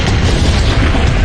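A deep, loud boom from an explosion on a North Sea platform fills a short burst with heavy low rumble and broad noise, sustained and without voices.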